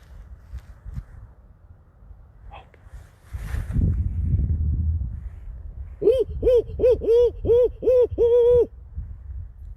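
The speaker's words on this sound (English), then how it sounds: "I thought I heard a barn owl down the valley." A barn owl gives a quick run of about seven rhythmic hoots, close and fairly loud, after some faint rustling and outdoor background noise on a spring night.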